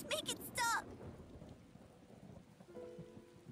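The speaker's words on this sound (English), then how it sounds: "Man, this thunder's pretty intense, huh?" Thunder during rain in the video game Tales of Xillia 2, a low rumbling under steady rainfall, with a brief burst of voice at the start and faint tones near the end.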